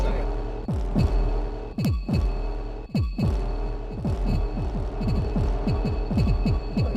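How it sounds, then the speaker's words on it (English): A 4ms Tapographic Delay Eurorack module morphs through its banked delay patterns, producing repeated plucky synth hits with sweeping, descending echo tails in an irregular, accelerating rhythm, loud and without talk. "So as I tap, I'm morphing to the next pattern in my bank."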